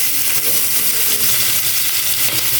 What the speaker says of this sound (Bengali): পেঁয়াজকে লাল লাল করে ভেজে নেব।